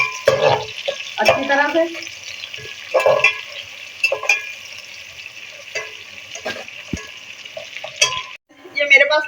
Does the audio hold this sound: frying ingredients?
yes